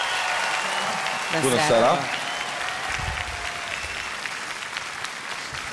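A television show audience applauds to welcome an elderly contestant, dense clapping throughout that swells with a brief cheer, then a voice greets the crowd over the continuing applause.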